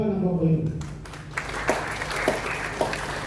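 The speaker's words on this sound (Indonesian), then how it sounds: "Kita tepuk tangan Bapak itu." At an opening worship service for a church meeting, someone speaks briefly, then a few scattered claps ring out, sparse and uneven rather than a full round of applause.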